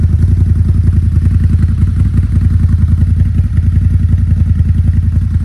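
A 2021 CFMOTO ZFORCE Z 950 side-by-side idles or runs steadily, its engine giving a deep, loud, rhythmic throb heard close up from behind the vehicle, with no voices.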